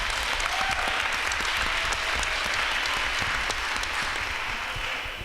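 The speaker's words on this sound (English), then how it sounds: "Please, another round of applause for that young man." Sustained audience applause at a National Park System Advisory Board meeting, a dense steady roar of many hands clapping without pause for about five seconds, fairly loud and close.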